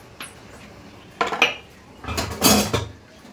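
Dishes being scrubbed with a scrubber in a kitchen, heard as a few short bursts of rubbing and scraping with light clatter of crockery and pans, close and moderately loud between quiet pauses.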